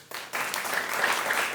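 An audience bursts into applause after a brief quiet moment, dense clapping that builds and holds steady for the rest of the short stretch.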